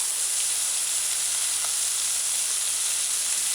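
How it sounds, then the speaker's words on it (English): Fish fillet and mixed vegetables sautéing in a pan over a high stove flame, a continuous, even sizzle and hiss that holds steady throughout with no voices. "Just allow it to saute."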